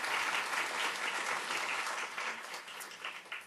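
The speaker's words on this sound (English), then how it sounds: "so let's just give them a round of applause" Steady audience applause at a lupus patient conference in Los Angeles, a full burst of clapping from the crowd that thins out slightly toward the end.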